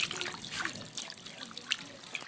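Water running and splashing over slaughtered, smoked chicken and duck as they are rinsed, a close, fairly quiet trickle with small splashes and no speech.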